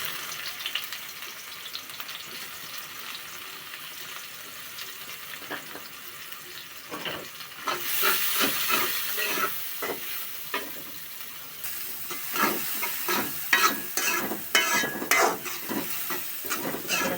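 Onions frying in a pan after cinnamon, cardamom and bay leaves, a constant sizzle broken by scraping stirs that start out sparse and grow busier and louder partway through, with no talking.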